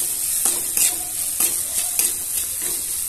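Tomatoes with turmeric and salt frying in a pan for a cauliflower, potato and fish curry, with a bright constant sizzle and several distinct spatula scrapes at irregular intervals, close up and with no talk.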